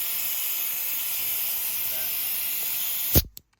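A faulty air nailer hisses the moment it is plugged in: a loud, steady, close rush of escaping air that runs for about three seconds and then cuts off abruptly with a short burst.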